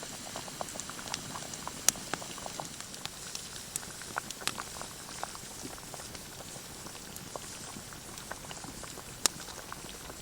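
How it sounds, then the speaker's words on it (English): Stew simmering in a billy can over a campfire outdoors in Algonquin Park, a steady low bubbling and patter with scattered small pops and crackles, close and fairly quiet throughout. "So this thing's been stewing for just over 3 hours."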